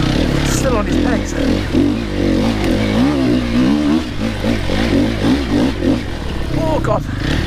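An enduro motorcycle ridden hard off-road, its engine revving and wavering up and down continuously up close, with clattering over rough ground and a rider talking over the noise.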